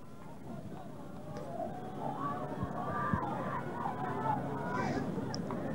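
A large crowd at a 1993 school rugby match between Selborne College and Dale College murmurs and calls out from a distance, a steady babble with occasional louder shouts rising and falling.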